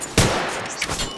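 Video game gunfire, a sudden loud burst of shots followed by a sustained noisy rattle and a second smaller crack, all close and dense.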